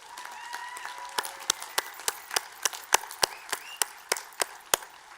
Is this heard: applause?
yes